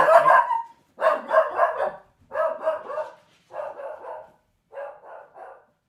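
A dog barks in five quick bursts of two or three barks each, close and clear, fading slightly softer toward the end.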